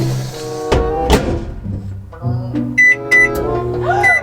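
A microwave door swings shut with a couple of solid thunks amid nearby talking, followed by short high electronic beeps from the oven's keypad.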